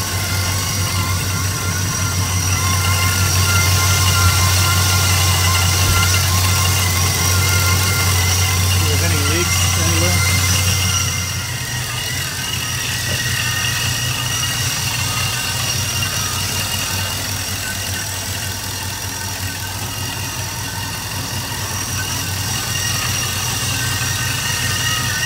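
Truck engine fitted with a Procharger supercharger, idling steadily and close by for the whole stretch, with a brief hum at first and faint talk at times.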